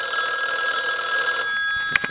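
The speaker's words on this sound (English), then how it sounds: "So let's ring the phone real quick." An ITT rotary desk telephone bell, set to loud, rings continuously with a steady metallic jangle, loud and close, ending with a brief clatter.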